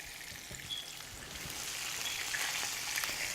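Meatballs frying in a pan give a steady, soft sizzle and crackle, faint and continuous with small pops, no voices over it.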